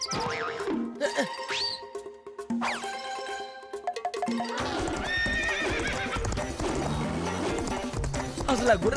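Cartoon horse neighs and gallops with steady clip-clopping hooves amid music and sound effects, with voices talking at times.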